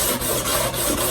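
Rapid, continuous rasping of 120-grit sandpaper rubbed by hand back and forth on a log of wood, close and loud, with short rhythmic strokes and no voices.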